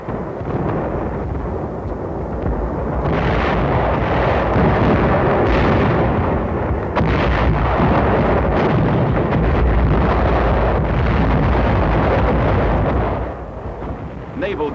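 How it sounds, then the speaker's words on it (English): Sustained artillery barrage fire on a Japanese settlement on Saipan in World War II, a dense unbroken rumble of booms and blasts that holds loud for nearly the whole stretch over heavy wind-like noise. "Our artillery fired at the capital."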